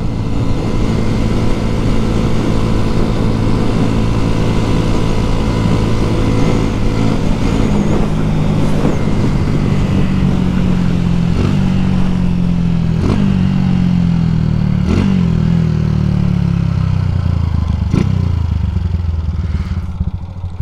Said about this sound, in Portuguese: se liga aí como que a lenta ficou muito baixa